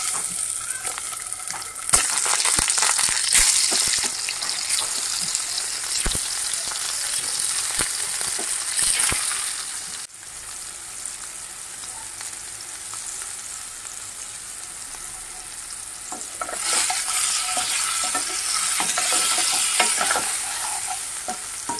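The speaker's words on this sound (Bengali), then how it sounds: "ফার্স্টে আলুটাকে একটু নুন হলুদ দিয়ে সুন্দর করে ফ্রাই করে নেব" Potatoes frying in a pan with salt and turmeric for Kashmiri alur dom, a steady close sizzle with hissing oil and occasional stirring scrapes, louder at the start and end, with no voices.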